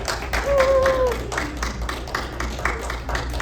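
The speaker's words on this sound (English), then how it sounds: "An applause" Audience at a live African storytelling session at a library claps after a story ends, a steady patter of many hands in a room, with a voice rising briefly over the clapping.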